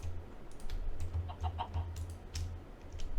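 Chickens in the video game Interdimensional Trains give soft, repeated clucks over a low background hum and faint clicking, fairly quiet and steady.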